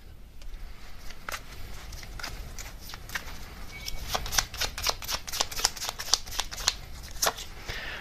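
Tarot cards are shuffled and handled during a reading, giving soft papery riffles and taps that speed up into a dense run of crisp card snaps near the end, close and fairly quiet.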